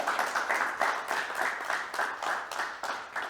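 A crowd at a business innovation awards ceremony applauds steadily, many hands clapping in a dense, continuous patter that swells slightly in waves.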